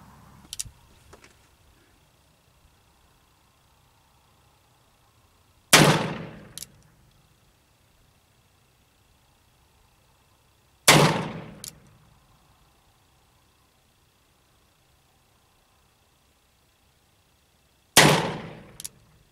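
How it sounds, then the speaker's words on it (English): Three single shots from a Remington revolver firing cast lead bullets, spaced several seconds apart in otherwise near silence. Each is a loud, sharp crack with a short ringing tail. "So I'm going to take these next 5 shots."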